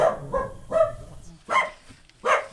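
A dog barks in several separate, close bursts with short pauses between, some sounding yippy and whiny.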